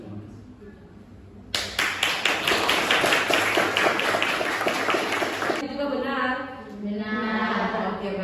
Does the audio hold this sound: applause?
yes